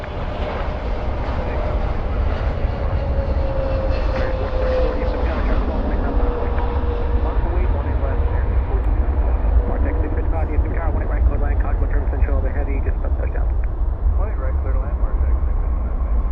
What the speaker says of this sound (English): Spoilers up, reversers out.